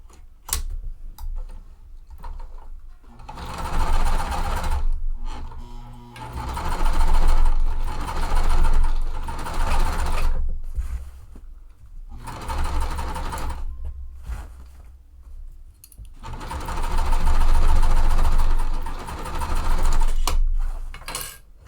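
A sewing machine runs in several bursts of stitching as two nested quilt pieces are sewn at a quarter-inch seam allowance, steady rapid ticking whirs with brief pauses between runs, close and fairly loud.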